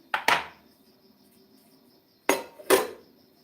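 A metal lid set down on a cooking pot, clanking twice close up, then another pair of sharp metallic knocks a couple of seconds later, with a quiet room behind and no talk.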